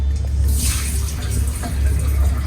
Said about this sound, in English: I have soaked this rice overnight and I'm going to drain the water.